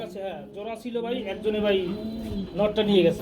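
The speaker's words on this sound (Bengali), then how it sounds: "এখানে আমরা আরও দুইটা কবুতর দেখতে পাচ্ছি" Pigeons coo in low, throaty bursts, close up, including a female pigeon, while people talk over them throughout at a pigeon sale.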